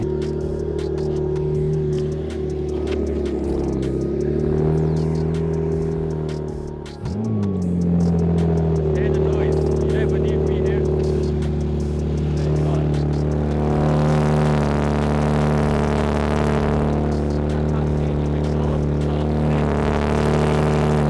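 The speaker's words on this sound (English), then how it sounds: "all I'm doing is parking this car back into the showroom." Porsche 991.2 fitted with an ES800 kit idling and creeping along as it is parked into a showroom, a steady loud engine drone with a short dip and blip around the midpoint, then rising revs near the end.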